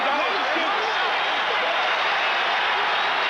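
Over 15,000 fans cheer at a Boston basketball arena during Game 2 of the 1981 NBA Finals, a loud, dense, continuous roar of crowd noise that never lets up.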